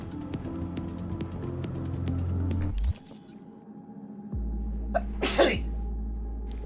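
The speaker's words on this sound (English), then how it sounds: "I had a powerful need to sneeze" A single abrupt human sneeze over game background music, which cuts out just before it and resumes afterward, with no speech.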